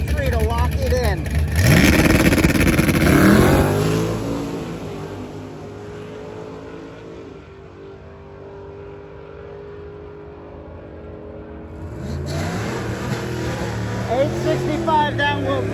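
At a drag-and-drive event, a Dart drag racing car does a burnout, with a loud revving engine and roaring tire spin that fades into a lower rumble before another loud roar returns, while a commentator talks over it.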